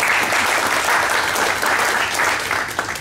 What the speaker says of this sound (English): let's give Michael Calvert a round of applause